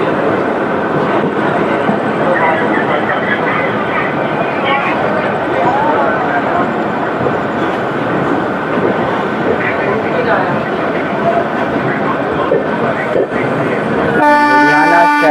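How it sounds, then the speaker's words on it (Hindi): A Jan Shatabdi passenger train pulls out of Ludhiana Junction, heard loud and close from on board, with continuous rolling rumble and wheel clatter for about fourteen seconds before a brief change in tone at the end. "तो फाइनली अपना डिपार्चर लुधियाना जंक्शन से हो चुका है।"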